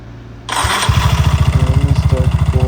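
Yamaha Mio i 125 scooter with a suspected starter motor or bendix problem, a brief starter whir followed by the engine catching and settling into a loud, close, rapid idling putter.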